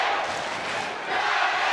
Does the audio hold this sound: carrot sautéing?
no